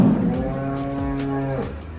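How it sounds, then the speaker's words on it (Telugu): Cows mooing outside on farmland, one long, loud, drawn-out moo that holds steady and then drops, with faint birdsong and chirps behind it. "ఇది బయట ఆవుల సౌండ్ అంతా వస్తున్నాయి"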